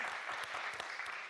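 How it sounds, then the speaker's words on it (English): Short, faint burst of audience clapping at a Davos panel discussion, heard briefly at a low level. "So I think that deserves a round of applause."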